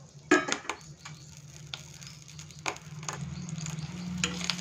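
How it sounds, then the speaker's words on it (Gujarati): Green chillies sautéing in oil with cumin and asafoetida over medium flame, a soft sizzle building steadily under occasional clinks and scrapes of a stirring spoon against the pan, close and moderately loud. "હવે આપણે મરચાંને તેમાં સાંતળી લેવાના છે થોડા।"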